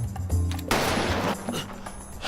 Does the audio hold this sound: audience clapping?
no